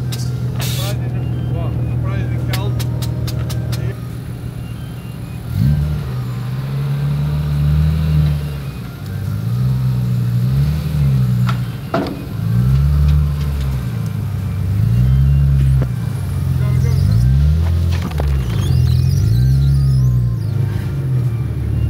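A car engine runs while driving, with a steady low hum early on, then rhythmic rising and falling revs as the car accelerates and shifts, sometimes with sharp clicks over the drone.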